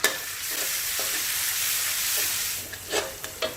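Steady sizzling of pounded aromatics stir-frying in a hot pan, with a few light clinks of a utensil stirring near the end.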